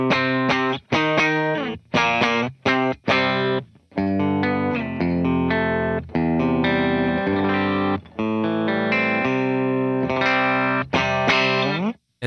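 An electric guitar with a clean tone, a Veritas Portlander played through a pedalboard into JMI and Fender Prosonic amps, strums bright chords and short choppy rhythmic stabs, close and upfront with no talk.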